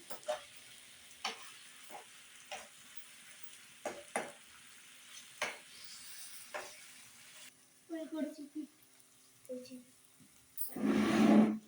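Chicken frying in a pan at home, a quiet sizzle broken by repeated sharp clacks of stirring, then brief clatter and a louder voice near the end.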